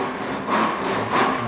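A tenon saw cuts wood for a rebate joint, with two slow, rasping back-and-forth strokes close by and no talking.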